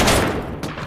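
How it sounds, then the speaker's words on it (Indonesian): A pistol goes off by accident during a dance scene in a film, heard as a sudden broadband burst of gunfire up close, followed by a second sharp report about half a second later. "tiba-tiba pistol itu menembak secara tidak sengaja"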